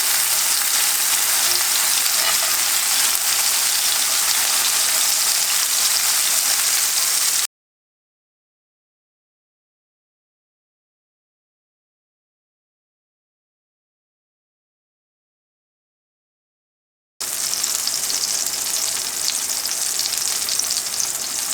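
Juicy tomatoes frying in a hot pan, a dense, loud sizzle with crackling splatter that runs steadily, breaks off into silence, then resumes just as strongly.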